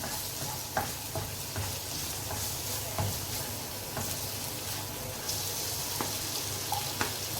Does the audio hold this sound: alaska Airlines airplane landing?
no